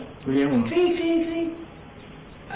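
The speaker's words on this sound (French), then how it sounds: "Les grillons." Crickets in Japan chirp steadily as a high, continuous trill, while a voice murmurs briefly near the start.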